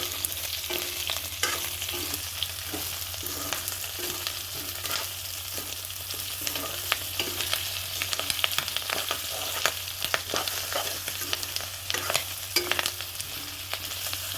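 Pork with spices is stirred and fried in a pan. A continuous close sizzle runs under repeated scraping strokes of a spoon at a fairly regular pace, with no talk.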